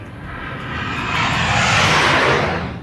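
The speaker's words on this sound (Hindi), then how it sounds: "इस फॉरवर्ड एयर बेस पर सबसे पहले हम आपको दिखाते हैं सुखोई लड़ाकू विमान की गर्जना।" A Sukhoi fighter jet roars at a forward air base. The loud, broad jet noise swells and holds steady near the listener, with no talking.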